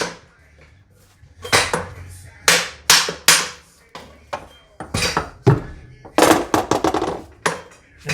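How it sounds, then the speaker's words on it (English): A hammer striking the rear universal-joint yoke on a 2007-2014 Cadillac Escalade, a series of sharp, loud metallic blows in irregular clusters with short pauses between, up close in a garage. "So I'll hammer on this."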